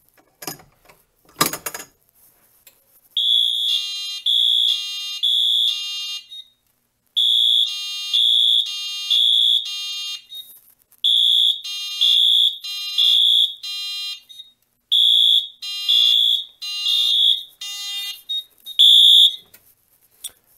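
FCI fire alarm system sounding after an MS2 pull station is pulled: a loud, piercing electronic horn in repeated rhythmic pulse groups, preceded by a sharp mechanical clunk, with brief pauses between bursts.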